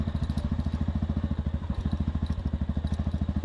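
Motorcycle engine thrumming steadily in a fast, even pulse while riding a snow-covered mountain road at Sela Pass, Tawang, in Northeast India; close, loud and continuous with no talk.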